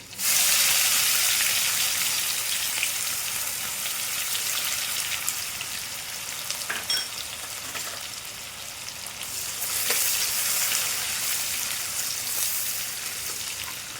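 Oil sizzles and crackles steadily in a pan as garlic greens are added for tempering, a bright frying hiss that swells louder in bursts, with a few clinks along the way.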